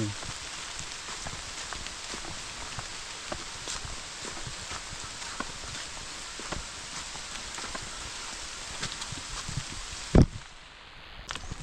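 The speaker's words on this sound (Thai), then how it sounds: "ฝนกระตุกมาละ" Rain falls steadily outdoors onto surfaces, a dense, even patter of drops with scattered sharper taps and one louder thump before it briefly thins out.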